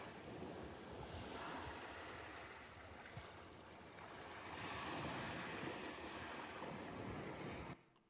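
Ocean waves wash steadily onto a sandy beach, a continuous broad roar of surf that swells and eases with some wind rumbling against the microphone before cutting off abruptly at the end.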